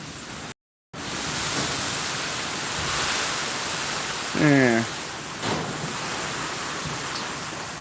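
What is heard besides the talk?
rain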